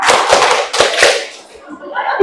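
A group of teachers at a school staff meeting claps out a short ice-breaker pattern of four sharp claps, fairly close and loud, fading into a quieter tail.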